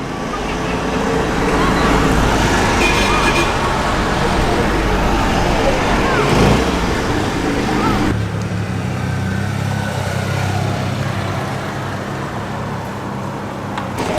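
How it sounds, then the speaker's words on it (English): Small classic bubble cars arriving at an outdoor car show and road run, a continuous loud rumble of engines and passing traffic with crowd murmur in the background, the sound thinning after a sudden cut partway through. "And here come the bubble cars."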